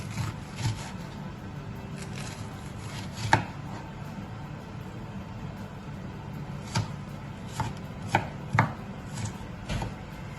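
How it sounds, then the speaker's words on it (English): A knife chops onion for a lamb stew on a board, a handful of faint, irregular thuds spaced seconds apart over a quiet kitchen background with no talking. "Just chop the sizes that you really prefer."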